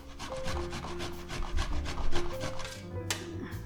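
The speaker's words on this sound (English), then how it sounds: "So I'm just going to grate some of those," Fresh peeled ginger root being roughly grated by hand, a quick run of rasping strokes close up and fairly quiet, without talk.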